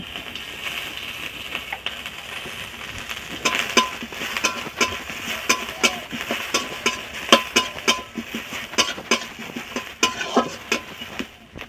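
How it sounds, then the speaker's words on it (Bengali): Chopped onions fry in oil in a wok while a metal spatula stirs them, giving a busy run of close, rhythmic scraping and clinking strokes over a soft sizzle, with no voices. "পেঁয়াজটা তেলে একটু ভাজা হোক"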